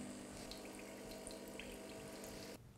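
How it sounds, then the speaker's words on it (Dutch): De'Longhi Magnifica S coffee machine flushing water through during descaling, a steady gurgling, hissing stream with a pump hum that cuts off abruptly near the end, leaving quieter dripping. "Hij zal nu al het water in 1 keer laten doorlopen"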